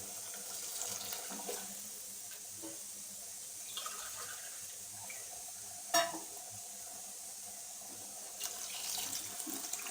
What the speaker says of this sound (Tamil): நீங்கள் 2 கப்பு தண்ணி வந்து ஆட் பண்ணிக்கங்க.